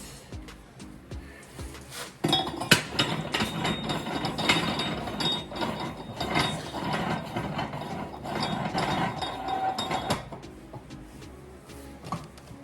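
A ratchet clicks rapidly and repeatedly while bolting down a tire changer for swapping ATV tires on a Honda Pioneer 520, close and fairly loud in bursts of fast mechanical ticking over about ten seconds.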